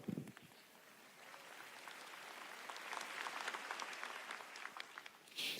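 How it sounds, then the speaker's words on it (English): A keynote audience breaks into applause after a quiet start, the clapping building into scattered, moderately loud claps toward the end. "A round of applause for math"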